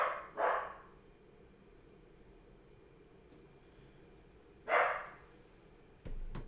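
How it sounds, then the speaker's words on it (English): A single dog barks from a distance inside a quiet room, two sharp barks near the start and another a few seconds later, separated by low background hum, with a soft thud at the end. "Dog is barking."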